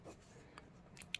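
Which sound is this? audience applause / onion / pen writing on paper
pen writing on paper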